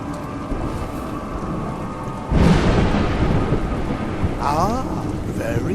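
Rain and thunder in the video game A Juggler's Tale: a steady patter of rain, then a loud rumbling thunderclap that rolls on over the downpour, with a faint voice-like sound near the end.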